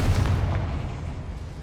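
A Confringo fire spell in Hogwarts Legacy goes off as a heavy, booming explosion that rolls on as a steady low rumble throughout the short moment.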